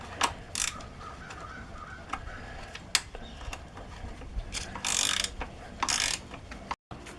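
A hand ratchet wrench loosens a bolt on a Polaris Sportsman ATV's lower control arm, giving irregular bursts of clicking and short scraping strokes close by, with brief pauses between.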